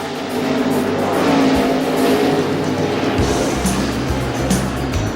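NASCAR stock cars from the 1998 season, including a Ford, battle for the lead on a race track, with loud, sustained engine roar and shifting revs as cars pass close by throughout.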